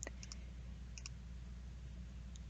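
A computer mouse clicks on a plus sign in Revit software, giving a few faint, sharp clicks in pairs over a steady low hum, with no talking.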